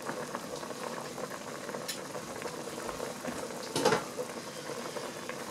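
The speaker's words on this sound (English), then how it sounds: "our pears have simmered for 5 minutes" Pears simmer in a pot of liquid on the stove for canning, a quiet steady bubbling with a couple of brief louder bursts partway through.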